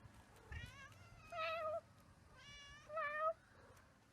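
A cat meows outdoors, four drawn-out tonal meows in a loose rhythm with short pauses between them, fairly close and clear against quiet background noise, with no voices present.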